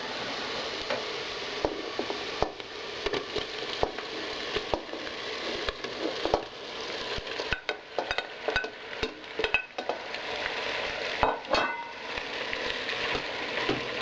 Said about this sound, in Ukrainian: хай м'ясо трошки піджариться, перемішую